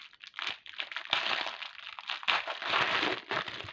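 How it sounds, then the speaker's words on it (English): Plastic packaging on an Eluya butterfly bead product is peeled and pulled off by hand, making bursts of crinkling and crackling close up with brief pauses in between. "See if I can get this plastic off here."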